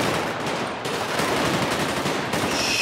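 Rapid automatic gunfire in the GTA 5 video game, an assault rifle rattling continuously and loudly in dense bursts with only a brief break, no one talking.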